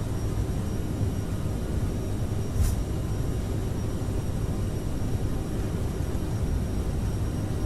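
Boeing 737 MAX 8 engines spooling at takeoff thrust in a flight simulator game, a steady loud broadband roar with a constant whine that holds evenly throughout, with a brief sharp click partway through.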